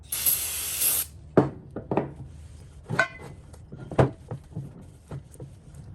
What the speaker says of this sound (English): Actually, I decided to use some brake cleaner to clean up the metal.